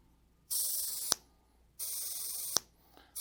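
Pressurized nitrogen hisses sharply from a Schrader valve on a refrigeration charging setup, two loud bursts about a second each, each ending with a click and followed by a quiet gap.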